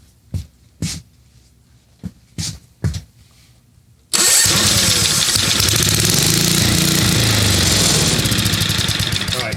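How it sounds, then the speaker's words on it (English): A vintage 1965 Ariens snowblower engine with a suspected blown engine, set to low RPM: several short pull-start bursts, then the engine catches and runs loudly and steadily up close. "So let's restart it and see what happens. I have it set to lower RPM."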